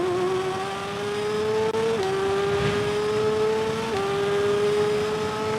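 Honda racing motorcycle engine in the TT Isle of Man 2 racing game, a loud sustained whine climbing steadily in pitch, dropping briefly at two quick gear shifts, then rising again, with no speech.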